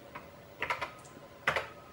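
A few clicking keystrokes on a TI-99/4A home computer keyboard in need of cleaning, tapped singly and in a short cluster, close and fairly quiet, alone with no talk.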